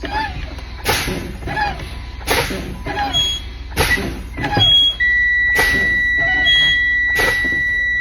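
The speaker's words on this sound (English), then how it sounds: "My low air warning light and buzzer have come on." A truck's low air pressure warning buzzer sounds continuously during an air brake test, with a couple of sharper high tones, while heavy clunks and thumps repeat at intervals nearby.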